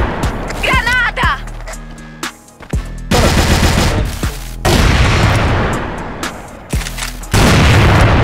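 A grenade explosion and rapid gunfire in the CrossFire shooter game, with loud bursts of automatic fire, sharp single shots and booming blasts packed close together, and a voice briefly speaking over the action.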